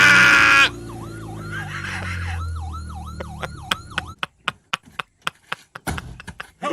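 A makeshift ambulance siren wails loudly in repeated rising-falling sweeps for several seconds. It is followed by a run of sharp, evenly spaced knocks or clicks close to the listener.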